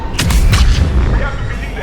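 Gunfire at a checkpoint under Cerberus attack in Mass Effect 3, a steady run of booming, loud shots and blasts filling the whole moment, close and dense.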